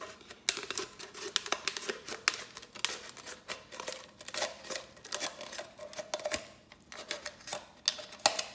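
Scissors snip and crunch steadily around a plastic drink bottle, a dense run of close, crinkly clicks and rustles with no talking.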